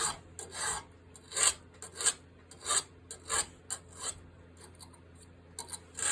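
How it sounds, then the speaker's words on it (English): Steady back-and-forth rasping of a chainsaw file on a horseshoe nail, about a dozen strokes in an even rhythm, close up with brief pauses between strokes. "then I just use the chainsaw file, and I file until they meet"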